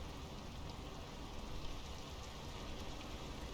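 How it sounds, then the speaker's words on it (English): Steady rain falls outdoors, a dense, even hiss of drops spattering on surfaces throughout, with no voices over it. "The rain's picking up."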